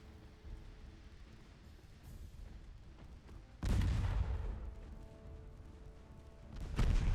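Heavy 8-inch naval gun firing in Ultimate Admiral Dreadnoughts, two deep booming blasts a few seconds apart over a low ambient rumble, each with a long rolling decay.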